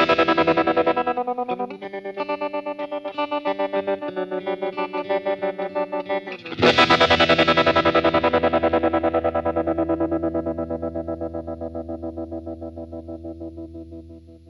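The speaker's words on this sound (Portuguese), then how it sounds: "Para esse exemplo, eu vou usar um overdrive de leve para ajudar a excitar mais a velocidade do trêmulo." Electric guitar played through a tremolo pedal with a light overdrive, volume pulsing in a steady rapid throb; a first chord sustains, then a loud new strum rings out and slowly fades while the pulsing continues alone.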